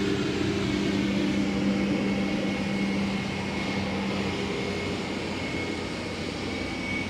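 An Emirates Airbus A380 taxis into its gate at Schiphol airport, producing a steady, loud engine drone with a constant whine that eases slightly toward the end.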